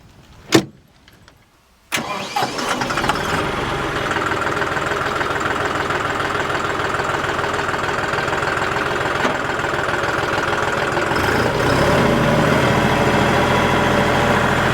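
A John Deere 5210 4WD tractor's diesel engine starts after a short click, then runs steadily and loudly at a constant idle, with a rough knocking texture and no talk.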